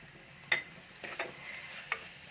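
Beef with crushed ginger and garlic being stirred in a pan, giving a soft background sizzle broken by a few sharp scraping clicks of the spoon against the pan.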